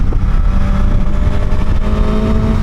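A Suzuki GSX-S 1000 motorcycle engine roars loudly and steadily up close while riding, with quick-shifter gear changes and a rough, throbbing exhaust note.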